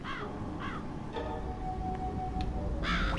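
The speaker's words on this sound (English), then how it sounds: "Hey, you fucking crow." A crow in the video game Psychonauts gives several harsh caws spread across a few seconds, the last one loudest, over a dense, steady game background.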